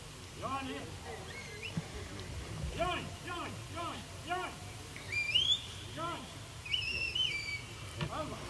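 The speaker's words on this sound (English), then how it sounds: "quite a series of whistles that he uses on his dogs" A shepherd's sharp rising and falling whistle commands to a sheepdog repeat in short bursts outdoors at a sheepdog trial, with a person talking and bird chirps nearby.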